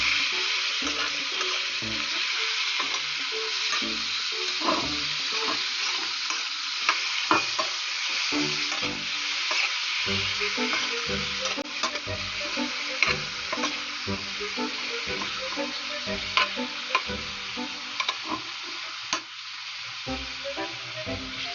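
Food frying in a pan is stirred for a long spell, with a continuous sizzle under repeated spoon scrapes and occasional sharper clicks against the pan, close by; one brief word is spoken.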